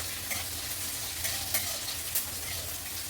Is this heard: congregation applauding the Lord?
no